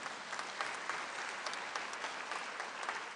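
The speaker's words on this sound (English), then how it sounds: "that deserves a clap" Audience applause at a Labour Party conference hall, steady, even clapping from a large crowd, continuous and fairly distant for a few seconds with no voices over it.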